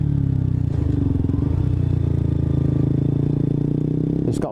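A KTM RC125 motorcycle engine drones steadily up close, its buzzing note shifting as the rider works down through the gears, ending in a brief clatter.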